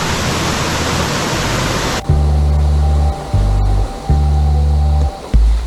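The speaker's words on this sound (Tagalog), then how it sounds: "waterfalls everywhere" Waterfalls at Baggao Bluewater Lagoon give a dense, loud rushing roar for about two seconds, then the noise cuts off abruptly and steady musical tones take over.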